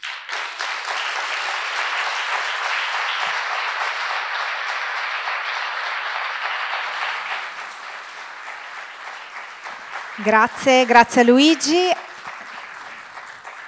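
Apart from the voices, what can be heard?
audience applause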